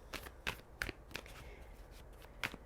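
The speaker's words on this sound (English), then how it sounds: "Let's shuffle." Tarot cards being shuffled during a reading, a rapid series of crisp riffling snaps and soft papery slaps, close and quiet with no talking.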